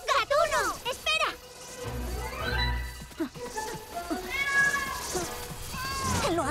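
A cartoon kitten stuck up in a tree meows several times in high, wavering cries, mixed with cartoon dialogue and a rushing whoosh effect partway through.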